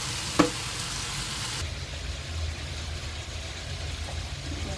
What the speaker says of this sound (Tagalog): Fry ko muna yung ampalaya at saka okra. Tapos isunod ko yung pork.